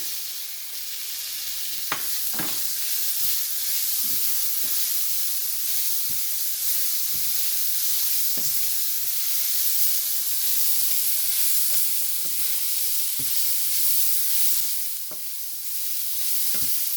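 Leeks sautéing in a pan, added after carrots while making egg fried rice, give a steady sizzle and hiss throughout, broken by repeated scraping and stirring clatters that are close and fairly loud, with no talking.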